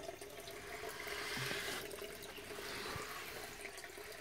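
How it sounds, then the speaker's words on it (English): Overflow water in a small aquaponics setup in Nepal runs steadily down toward the fish tank, a soft continuous trickle and splash with no voices. "Here is the overflow water."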